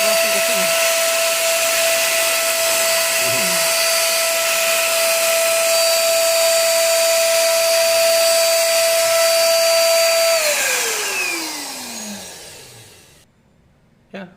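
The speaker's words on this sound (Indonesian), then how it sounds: "semburannya seperti ini ya. Butirannya sangat besar, kasar sekali." A Ryu RSE800 electric spray gun with its standard nozzle sprays water with a loud, steady high whine, then winds down and stops.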